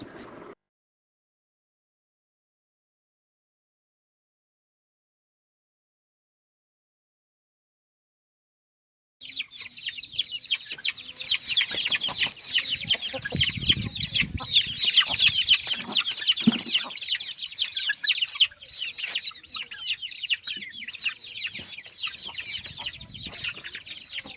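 After a long silence, a flock of chickens clucks and chatters continuously nearby, with overlapping calls and the occasional rustle of wings.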